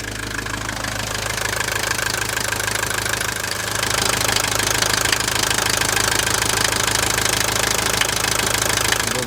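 A Mercedes W123 engine runs steadily at idle with a rough, knocking clatter, close up and continuous, growing slightly louder partway through.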